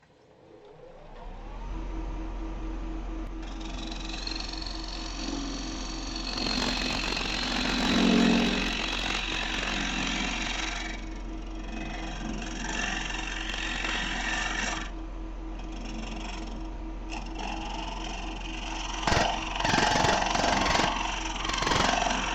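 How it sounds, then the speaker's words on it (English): Wood spins on a lathe while a Dale Nish style scraper cuts it in a conventional scrape, giving a continuous motor hum with a steady scraping, whining tone that swells and eases, close and fairly loud. "I'm gonna use this scraper, Dale Nish style scraper."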